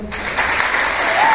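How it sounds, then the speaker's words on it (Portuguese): An audience bursts into steady, loud applause at a Brazilian literatura de cordel event honoring a folk poet, the dense clapping filling the whole stretch without a break. "apresentando vocês aqui com a salva de palmas, Jota Arimateia,"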